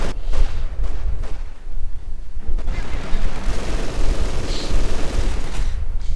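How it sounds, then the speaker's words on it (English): A Company of Heroes 2 battle in which flamethrower pioneers burn conscripts inside a house, giving a loud, dense roar with crackling bursts and booming gunfire layered throughout, close and continuous, with no speech. "Flamethrower pioneers burning away at the conscripts inside the house"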